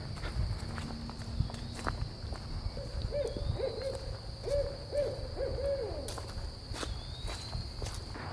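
A distant owl gives a run of quick hoots over a constant insect buzz while footsteps shuffle nearby.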